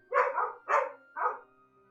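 Dogs bark in three sharp bursts, reacting to outdoor warning sirens being tested; the barks are close and loud with short gaps between them.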